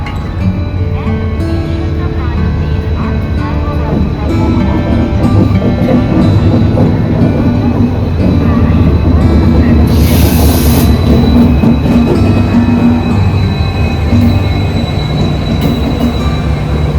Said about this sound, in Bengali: ওই যে আমাদের ট্রেন ঢুকছে।